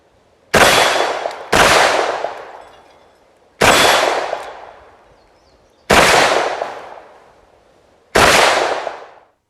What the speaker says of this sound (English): Let's go ahead and take some shots and see how she does.